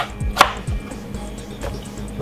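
Fresh ginger being chopped with a knife on a board, a few close knife strikes with one sharper knock standing out, no talking.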